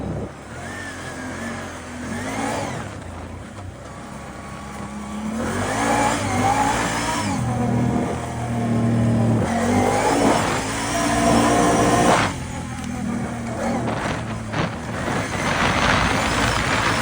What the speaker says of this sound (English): These tires might need a little air in them. They sound really loud.